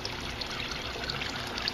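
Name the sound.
water trickling back into aquaponic system pipe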